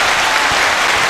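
Loud, steady applause fills the whole moment, a dense wash of many hands clapping during a podcast episode welcoming a first-time guest, with no talk heard over it.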